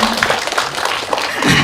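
An audience at a 2022 human rights film screening and Q&A in Korea applauds the writer, a steady, dense wash of many hands clapping together, close and fairly loud throughout.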